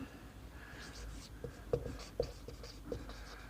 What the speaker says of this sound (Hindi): तो सबसे पहले मैं लिखता हूँ गिवन डेटा